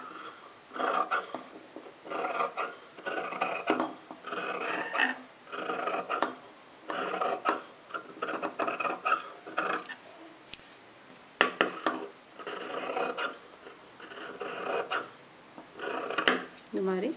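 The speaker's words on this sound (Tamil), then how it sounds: "லைனிங் கிளாத்தோட அளவுக்கு நம்ம எக்ஸ்ட்ரா கிளாத்தை வந்து கட் பண்ணி விட்டுருணும்" Scissors cutting extra cloth down to the size of the lining fabric for a chudidar top, with repeated short crisp snips in bursts, close and fairly faint, alternating with a woman's speech.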